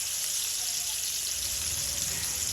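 Bitter gourd frying in very hot oil makes a continuous close hiss with a faint low crackle underneath, heard alone with no talk.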